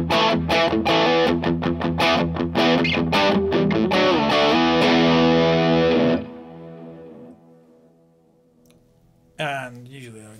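An electric guitar played through an OCD overdrive pedal preset chugs out loud, distorted rhythmic chords, then lets a sustained chord ring and fade before one last struck chord, with no talking.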